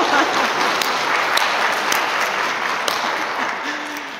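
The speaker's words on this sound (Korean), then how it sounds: "여러분 박수 한번 쳐주세요" Audience applause at a Catholic spiritual guest talk featuring a novelist, a dense steady wash of clapping filling the hall, holding level throughout and tapering slightly at the end.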